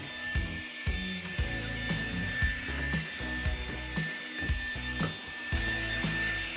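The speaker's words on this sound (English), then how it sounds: "I'm gonna vacuum it out and just put a few things back in here." A vacuum cleaner runs in bursts while cleaning out a storage shelf, its motor whine steady beneath repeated knocks and bumps of the nozzle against the shelf, fairly quiet overall.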